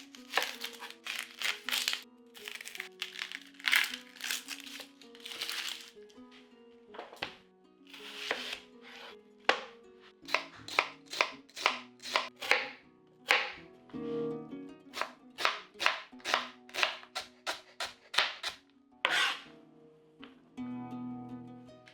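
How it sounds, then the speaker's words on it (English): A knife dices a large onion on a cutting board, a long run of sharp, close chops in uneven bursts with short pauses, accompanied by quiet background music. "Peel and dice 1 large onion."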